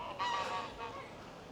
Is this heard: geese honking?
yes